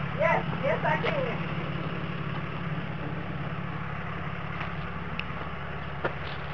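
A GMC truck with a bad fuel pump runs at a steady, low idle, a constant engine drone close by, with a few brief clicks and light noises over it near the start.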